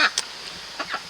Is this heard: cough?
no